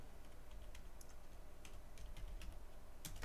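Quiet clicking of keys on a computer keyboard, irregular taps in a short run, faint and close with no talking.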